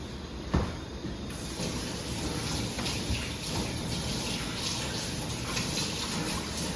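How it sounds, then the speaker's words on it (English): Hands are washed under a running kitchen tap, a constant close stream of water with a brief knock early on and soft splashing shifts as the hands move. "let's go wash your hands again"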